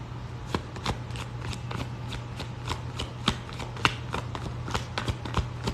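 Tarot cards are shuffled and drawn in a steady run of crisp riffling snaps, about two or three per second, close and moderately loud over a low constant hum, with no one speaking.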